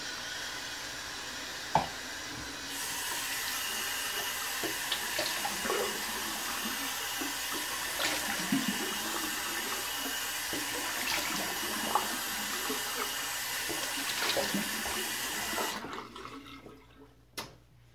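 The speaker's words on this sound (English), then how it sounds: "Go ahead and cold water rinse." Cold water runs steadily from a tap for a rinse, a constant close splashing hiss that stops abruptly near the end, with a few faint clinks along the way.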